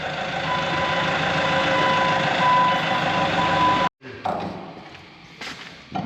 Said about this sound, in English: It's hard to find a good forklift operator, Mason. Yeah. Back up, operator